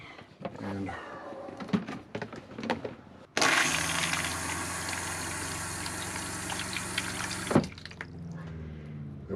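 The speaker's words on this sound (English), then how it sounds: "I finally got the toilet hooked up." An RV toilet flushes with a sudden loud rush of water lasting about four seconds, then cuts off, with someone talking before and after.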